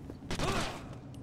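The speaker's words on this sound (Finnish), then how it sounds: "No melkein ammuin sut." A short burst of video-game gunfire, a quick loud crack with a brief tail, over a faint background of game sounds and muffled voice.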